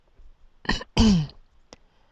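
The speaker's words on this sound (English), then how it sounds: "Sorry, I don't mean to clear my throat." Someone clears their throat twice up close, a short rasp then a longer gravelly one, followed by a small click.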